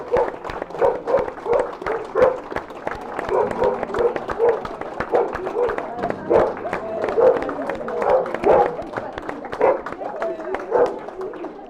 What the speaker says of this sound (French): j'aimerais qu'on s'applaudisse tous mutuellement et surtout on applaudit les stars